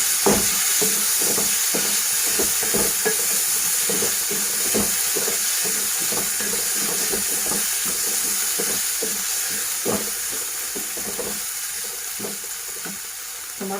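Spices fry in a pan as the base for sabudana pulao, giving a steady bright sizzle with frequent short stirring scrapes in an irregular rhythm, close and clear, with no talking.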